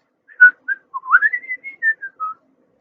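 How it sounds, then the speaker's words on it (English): A whistle sounds alone in a quiet room: a few short clear notes, then a longer warbling phrase that rises and slides down in pitch. "Now, the next one I'm picking up is a whistle."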